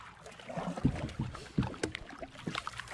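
A canoe being paddled on the River Dart, with close, soft paddle strokes and water splashes at irregular intervals over a faint outdoor background.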